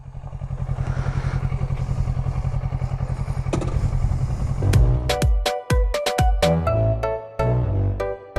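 A Kawasaki Ninja 400 motorcycle engine hums steadily while riding, loud and close, with a low rhythmic drone; midway it gives way to a run of sharp clattering knocks and tonal chimes.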